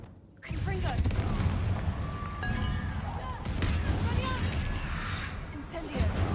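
Confringo blasting-curse explosions in Hogwarts Legacy, a loud continuous barrage of booming blasts and crackling impacts starting abruptly after a brief quiet moment, with voices speaking over the combat.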